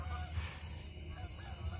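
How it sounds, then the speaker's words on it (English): A flock of geese honks in the distance near a rural gravel road, faint repeated calls over a steady outdoor rumble. "There goes a bunch of geese again."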